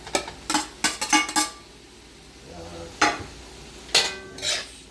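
Shrimp stirred into a coconut-milk gata sauce in a pan for creamy spaghetti squash, with irregular bursts of utensil scraping and clinking, a quiet pause midway, then a few more stirs.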